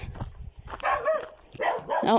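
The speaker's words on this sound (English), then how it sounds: "there's the other dog" A dog barks outdoors during a summer countryside walk in Tuscany, giving two bursts of several moderately distant, echoing barks separated by a brief pause.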